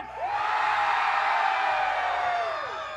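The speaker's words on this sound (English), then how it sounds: "I said scream out loud." A rock club concert crowd screams and whoops together in one sustained, loud roar lasting a few seconds before it fades slightly, at a show at Reggie's Rock Club.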